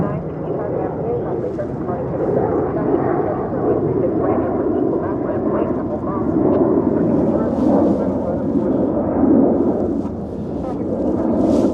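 UPS heavy cargo jet taking off at Dallas/Fort Worth airport, a steady, broad, rumbling roar that holds and swells slightly throughout, with a voice talking over it.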